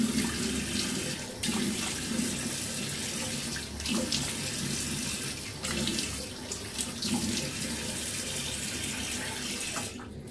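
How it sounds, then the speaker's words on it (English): Cold water running from a bathroom tap into a sink during a shave, a steady close splashing stream with a few brief changes in flow as hands move through it. "Cold water."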